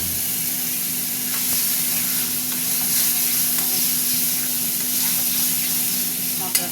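Masala of turmeric, coriander and cumin powders frying in a pan, a steady dense sizzle and hiss with faint stirring scrapes, continuous and close throughout.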